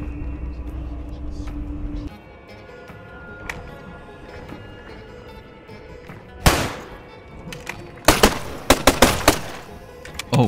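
Pistol gunfire in the game Falsepine comes as a few loud, sharp single shots and quick bursts near the end, preceded by a lower rumble and scattered clanks, with a voice talking throughout.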